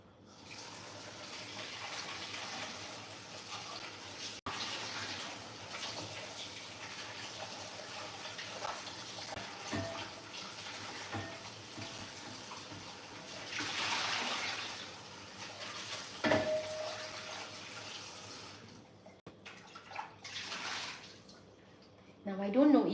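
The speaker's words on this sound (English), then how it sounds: "Let's wash fish and put the fish inside" Tap water runs and splashes while fish is washed in a kitchen, a steady rushing flow that swells and dips, with a person talking intermittently over it.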